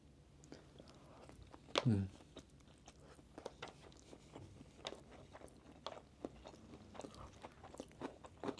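Crunchy supermarket sushi with cucumber being chewed close to the mic, with soft crunchy bites and one louder crunch near the start, continuing as scattered quiet chewing throughout.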